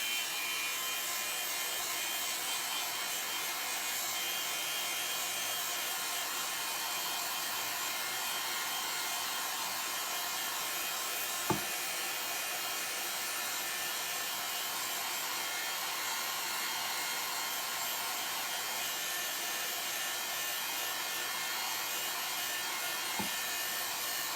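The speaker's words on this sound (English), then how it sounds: "let me help this dry with the hairdryer." A hair dryer blows with a steady, even whoosh throughout, broken only by a couple of faint clicks.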